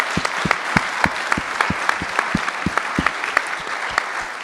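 An audience claps warmly at an outdoor-access community event, a steady run of sharp, close hand claps lasting a few seconds with no voices over it.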